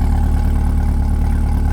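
A 2023 Chevrolet Corvette 2LT idles steadily with its top down, a low, even exhaust rumble that holds close and loud throughout.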